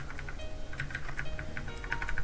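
Typing on a budget mechanical keyboard priced at about twenty dollars: a quick run of close, crisp key clicks in an uneven rhythm, with no talk.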